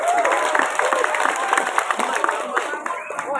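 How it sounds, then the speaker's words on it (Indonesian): An audience at an Islamic religious lecture claps in a brief, scattered round of applause that mixes with crowd murmur and a speaking voice. "ya boleh tepuk tangan silahkan"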